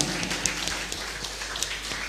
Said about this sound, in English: Give applause once again for Mahardika.